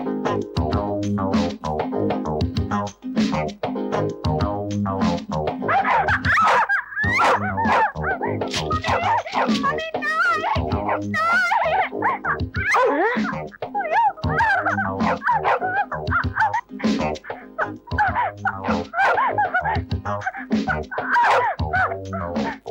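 A dog barks, yips and whimpers repeatedly and loudly in a Tamil action film scene, the sounds mixed with music and other film audio throughout.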